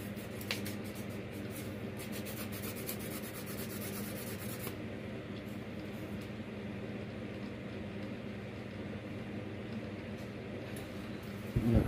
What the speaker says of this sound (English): Scrape off any corrosion that's on this thing.